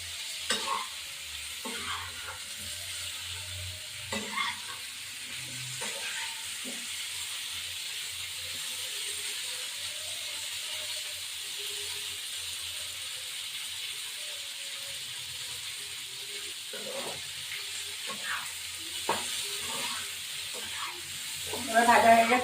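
Katla fish fries in oil in a pan with a steady soft sizzle, and a utensil stirs and scrapes it in occasional clinks and knocks. Faint talking is heard now and then.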